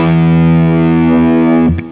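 Electric guitar through a Wampler Velvet Fuzz pedal on its tight setting sounds a loud, sustained fuzzy chord that rings steadily, then cuts off abruptly near the end.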